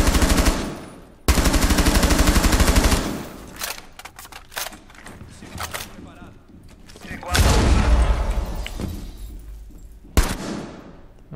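Bursts of rapid automatic gunfire rattle loudly in several volleys in the video game Rainbow Six Siege, separated by quieter stretches with scattered single shots and thuds.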